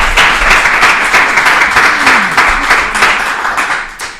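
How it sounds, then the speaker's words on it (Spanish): Audience applause for a guest on a Spanish talk show, a dense, steady wash of many hands clapping close and loud for about four seconds, alone without talk. "Un aplauso para Noemí, por favor"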